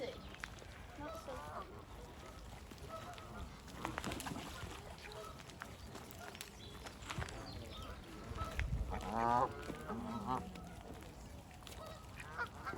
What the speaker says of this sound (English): So these are the Canadian geese which come up every year.